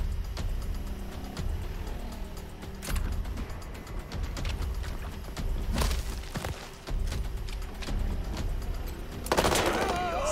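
Gunfire in the video game Wasteland 3 comes as bursts of sharp shots and rattling volleys, loudest near the middle and end, mixed with game noise and occasional talk.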